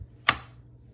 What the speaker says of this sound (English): Can you cut the mushrooms into quarters?